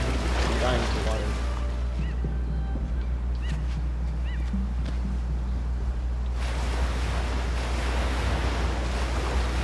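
Sea waves in the puzzle platformer Unravel, on a cold seaside level: a steady, loud wash of surf noise rolling without pause, with faint tonal game sounds drifting over it.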